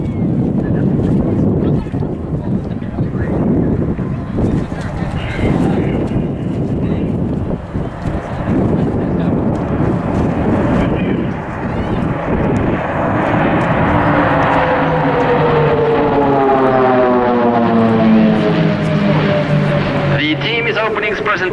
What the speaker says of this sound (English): approaching from your right, please welcome the great and unique Swiss Air Force PC-7 team.